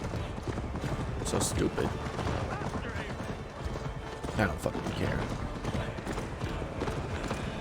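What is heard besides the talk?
horse hooves galloping in Assassin's Creed Valhalla video game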